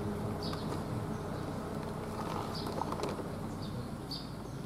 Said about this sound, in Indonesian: Ada tawon yang bersarang, mudah-mudahan tidak membahayakan ya.